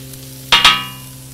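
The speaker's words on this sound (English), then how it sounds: "in this pork belly fat, we'll add our onions." Onions are dropped into hot pork belly fat for fried rice, giving two quick bursts of sizzling close together. The sizzle then fades over a steady background hum, with no talking.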